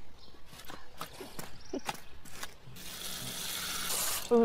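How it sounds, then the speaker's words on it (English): Worms being rinsed under a running tap, the water starting partway through as a steady broadband hiss and splash after a few scattered knocks and handling sounds, with a brief squeak near the end. "We just rinse them off just because the worms might have chytrid on them."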